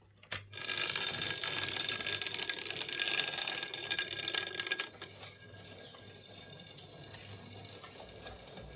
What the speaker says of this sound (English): That's this old Hornby Dublo 3-rail N2 class locomotive, serviced and running really, really nicely